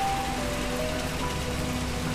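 Steady rain falls, an even, dense hiss of drops on surfaces with a faint hum beneath, quiet and unbroken with no voices present.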